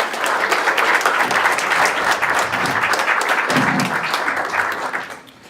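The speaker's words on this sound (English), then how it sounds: "Please a big round of applause for everyone." A room full of people applauding at a housing discrimination event, loud sustained clapping that holds steady for about five seconds before tapering off at the end.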